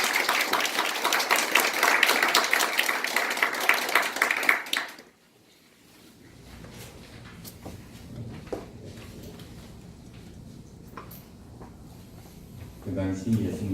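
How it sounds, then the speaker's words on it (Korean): Audience applause at a church Bible-study debate, a dense, steady burst of clapping filling the room for about five seconds before stopping abruptly, leaving quiet room tone with a few faint taps and shuffles. "처음 발제를 시작하시는데 뜨거운 박수 부탁드리겠습니다."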